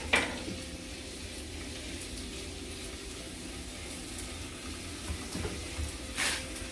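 Onions sizzling in a pan for a breakfast dish, a soft, steady frying hiss with a couple of brief utensil taps and scrapes near the start and end.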